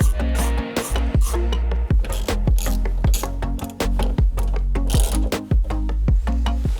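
Bolt being tightened on a Prinsu rooftop tent mount bracket in the tent extrusion channel, a quick run of sharp, close metallic ratchet clicks in uneven bursts, with no talking.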